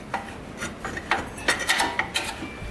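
Metal brake pad and caliper assembly scrapes and rubs as it slides over a new rear rotor on a Jeep Grand Cherokee: short, close, clinking scrapes in quick irregular succession.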